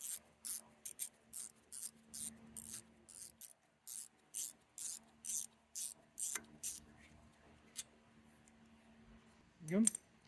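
A ratchet undoing a T30 Torx bolt on the rear ABS wheel speed sensor of a 2017-2023 Chevrolet Bolt EUV: a dozen or more crisp rhythmic bursts of ratcheting clicks, near and clear, ending with a single louder metallic clank.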